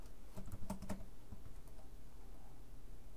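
Keys clatter on a computer keyboard as a MySQL command is typed at a Windows command prompt, a short quick burst of clicks followed by a faint steady hum.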